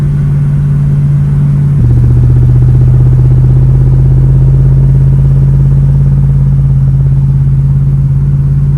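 A 1965 Chevrolet Nova wagon engine fitted with a new Holley carburetor hums loudly and steadily up close, its tone shifting once as it accelerates smoothly, with no voices over it.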